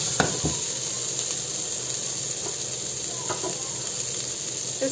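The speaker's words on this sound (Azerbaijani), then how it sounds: "Bir dəqiqələri yağda qızardıram, o üz, bu üz." Shrimp fry in oil in a pan with a steady, close sizzling hiss, broken by a few brief pops and stirring clicks.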